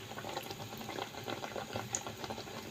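Eggplant slices dusted with turmeric fry in hot oil, a steady close bubbling sizzle that crackles softly throughout, with no talking.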